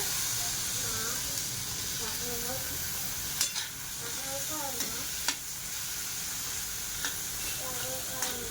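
Potatoes go into a frying pan with dried fish, a bright continuous sizzle and hiss with scattered stirring scrapes and clacks of a spoon, close and moderately loud, with a faint voice briefly in the background.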